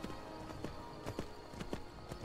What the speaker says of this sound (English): there's our little horse, and he will wait for me, but he will actually just walk along